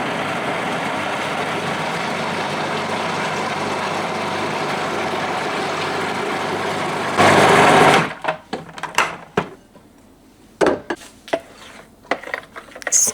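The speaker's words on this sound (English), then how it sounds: "we transfer it to the ice cream maker" An ice cream maker churning a blended condensed-milk mixture drones steadily for several seconds, then stops, leaving faint clatter and intermittent kitchen knocks nearby.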